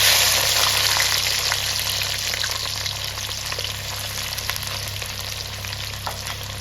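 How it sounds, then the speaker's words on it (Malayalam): Garlic frying in sesame oil with popped mustard seeds for a date and lemon pickle, a loud, steady sizzle dotted with small crackles that eases slightly over time. "നമ്മൾ അതിലേക്ക് വെളുത്തുള്ളി ഇടാം."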